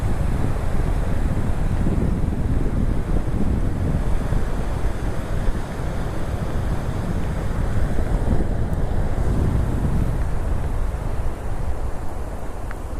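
Sea waves roll onto the beach at Mandarmani in a continuous loud roar of surf, heavily mixed with gusting wind buffeting the microphone. No voices are heard.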